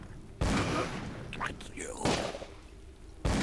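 Gunfire in the horror video game Call of Cthulhu: Dark Corners of the Earth, with three loud, sudden bursts spaced about a second apart, under faint game ambience between the shots.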